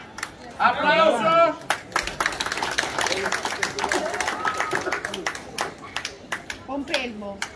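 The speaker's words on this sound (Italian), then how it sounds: "Applauso!" A small group claps together at a lively drinks gathering in Tenerife, with uneven sharp claps, shouts and whoops at first, then scattered clapping and mixed chatter among voices.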